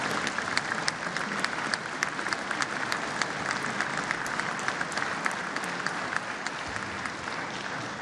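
Audience applause for the State Board of Education during the West Virginia State of the State Address, a large crowd clapping steadily and densely, somewhat distant, for the whole stretch.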